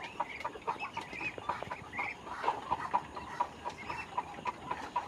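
Chinese ducks and newly released ducklings on a farm call in repeated quacks and chirps, a steady busy chatter of several birds close by with no talking.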